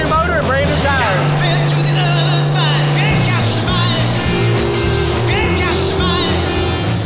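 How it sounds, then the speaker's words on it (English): A motorbike does a parking-lot burnout on a brand new motor and brand new tires, its engine roaring loud and close with rising and falling revs, while voices talk over it. "Parking lot burnouts"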